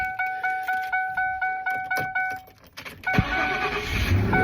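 A 4.6 V8 engine in an old 1996 car is started: a rhythmic chime rings, the starter cranks briefly, and the engine catches and settles into a loud, close idle.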